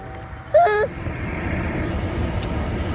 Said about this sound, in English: I don't know if you can hear it with the defroster on, but me and Molly are in the car now.